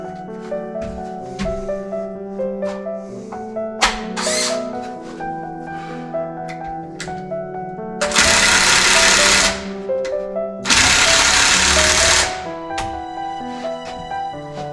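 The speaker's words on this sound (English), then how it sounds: "Got a feeling my drill is just about shot, or my impact there." Two loud bursts of a worn-out power drill or impact driver whirring, separated by clicks, taps and rattling of handled tools.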